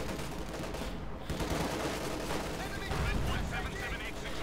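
Panzer I tank gunfire hitting shock troops in the Company of Heroes 2 video game, dense overlapping battle bursts and rumbling explosions under a constant layer of mixed game noise, with a voice talking over it.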